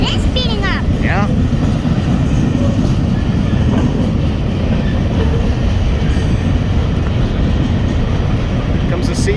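A BNSF freight train with a Canadian National locomotive rolls past at Palmer Lake, Colorado, giving a steady loud rumble and rattle of wagons throughout, with brief faint squeals near the start and no clear voices over the noise.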